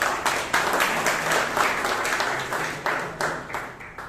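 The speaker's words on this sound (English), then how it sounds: "can we have one more round of applause?" Audience at a Toastmasters club meeting in Bangalore applauds, steady clapping with rhythmic pulses running throughout, moderately loud and close.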